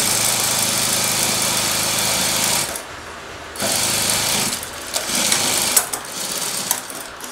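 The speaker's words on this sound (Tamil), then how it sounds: "அப்படியே நேராக வந்து நம்ம தையல் போட்டுக்கிறோம்." A sewing machine runs at a steady buzzing, rattling drone while stitching a cross-cut blouse seam, pausing briefly before resuming in shorter bursts; close and loud, with no talking.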